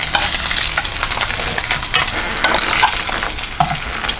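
Pork chops brown in a pressure cooker, a loud, steady sizzle of frying with scattered crackles and stirring scrapes running continuously throughout, no voices.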